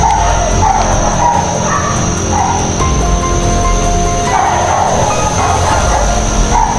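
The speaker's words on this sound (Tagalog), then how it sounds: "Nandito sa may mga aso." Several dogs bark in short, scattered bursts at a middle distance, set against a constant background hum and a high steady whine.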